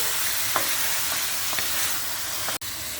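Peeled tomatoes and tomato paste stirred in a hot pan, a steady sizzle with a few soft scraping strokes of the spoon, close and alone.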